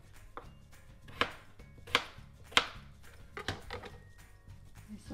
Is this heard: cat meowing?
no